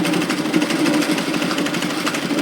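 A sewing machine stitches across a knit teddy jacket in one continuous, close, rapid whirring run with a steady buzzing rhythm.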